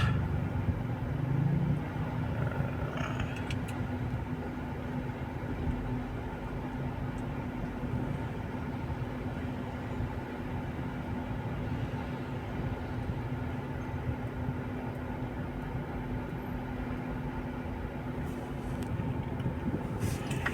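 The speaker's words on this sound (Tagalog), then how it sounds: "Traffic pa." Steady road traffic heard from inside a car in Pasig around six in the evening, a continuous low engine and tyre rumble with a faint thump early on, no talking.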